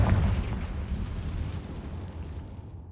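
Confringo spell explosion in Hogwarts Legacy, a single loud booming blast at the start that rumbles and fades away over a few seconds.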